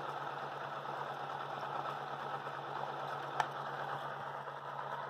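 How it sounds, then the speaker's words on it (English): A small electric motor with a magnet rotor spins steadily at constant speed, giving a close, even hum with a low tone and a mid-range whir, and one brief click partway through. "And listen to the motor. Shorted out now."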